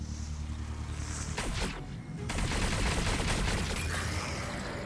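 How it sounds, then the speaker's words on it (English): Repeated launcher shots from a mage's weapon in the VR game Zenith: The Last City, a steady rapid rhythm of blasts that briefly thins then resumes, loud and close throughout with no talk. "Pull triggers while holding your launchers to shoot."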